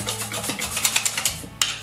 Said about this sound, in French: je racle bien les bords